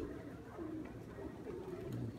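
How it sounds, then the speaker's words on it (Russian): Adult pigeon giving a series of low, soft coos in the rain, several rolling phrases spaced through the stretch, quiet and near, with no talk. "Это взрослый голубь, но сейчас видели, он дуркует."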